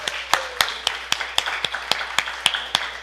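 Clapping at a church service sounds as a steady, evenly spaced series of about a dozen sharp claps, close and distinct with brief gaps between each, rather than a dense roar of applause.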